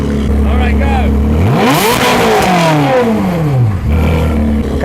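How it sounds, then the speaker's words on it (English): A Ferrari 360 engine revs at full throttle, a loud close roar climbing sharply in pitch, holding, then falling away and settling back to idle over a few seconds. "Let's see what it's like on full throttle."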